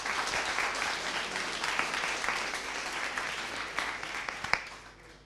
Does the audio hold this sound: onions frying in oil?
no